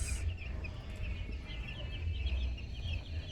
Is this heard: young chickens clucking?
yes